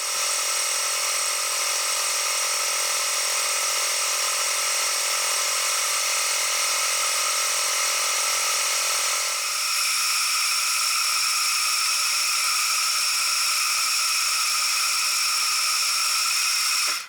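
A milling machine cuts steadily across a sawn metal face to square it up, giving a continuous high whining, grinding tone with a slight shift in pitch midway, heard close and alone without talk.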